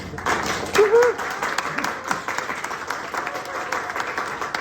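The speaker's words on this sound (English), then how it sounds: "we have the St. Augustine SAR chapter applaud her contributions" Members of a chapter meeting clap for an honoree, a moderate round of applause at indoor distance with a voice speaking over it near the start.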